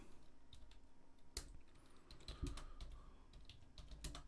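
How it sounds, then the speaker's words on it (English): Fingers type on a computer keyboard in a quiet room: a steady patter of light key taps broken by a few louder, sharper clicks, with no voices. "I'm going to have to go silent here and start typing."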